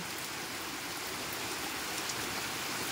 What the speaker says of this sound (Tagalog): grabe ang ulan dito ngayon.